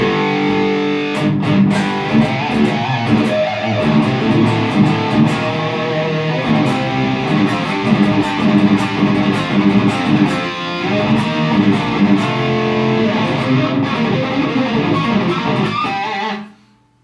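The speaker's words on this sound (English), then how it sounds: "get the distortion from overdrive" Electric guitar through a Fryette Sig:X amp with overdrive, playing steadily with thick, gritty distortion and sustained chords, loud throughout before cutting off abruptly at the end.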